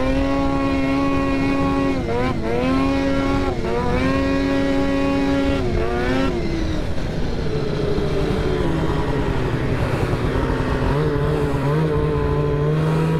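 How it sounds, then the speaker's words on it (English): A Ski-Doo Summit 800 mountain snowmobile engine drones and revs loudly on thin snow, its pitch rising and falling in surges before settling into a rough, steady roar. "Not much snow, man. They're pushing it with a mountain sled."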